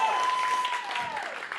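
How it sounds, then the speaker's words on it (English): Audience applause at a spoken-word youth showcase, a steady wash of clapping from a crowd with a voice-like tone drifting over it, fairly even in level throughout. "Give a big round of applause for Tyshawn"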